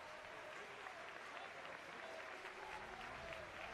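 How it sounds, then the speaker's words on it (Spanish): Spectators applaud a substituted player leaving the pitch during a Copa Federación quarter-final football match, the clapping faint and distant, spread evenly across the stands with a low crowd murmur. "Los aplausos para el futbolista que abandona el rectángulo de juego, Stevens."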